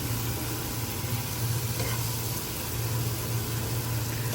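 Ground spice paste frying in hot oil with whole garam masala, a steady, close sizzle holding at an even level for several seconds with a low hum beneath and no voices.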